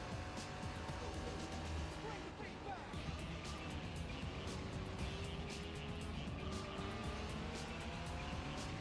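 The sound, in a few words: racing car engine in video game Gran Turismo 4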